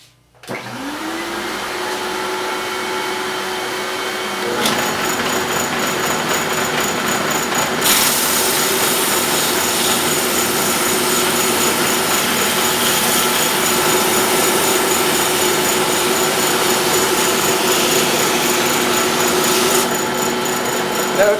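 A power tool fitted with a dust shroud cuts kerfs in wood for kerfed linings. The motor spins up, then grows into a loud, steady whining roar with rougher cutting noise layered on top, stepping louder partway through.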